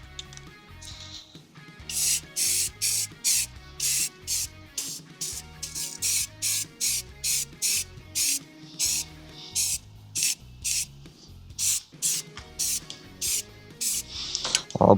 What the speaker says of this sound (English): Spray it black, and we're good then.